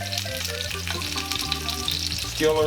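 Oxtails browning in a hot skillet make a steady, dense frying sizzle that runs through the whole clip, with faint stirring and clinks over it and a slight swell at the end.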